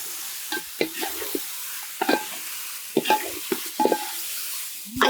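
Chicken pieces for a hotel-style fry hit a pan, giving a low sizzling bed broken by repeated scraping stirs and clinks at a steady rhythm, close and moderately loud with no voices.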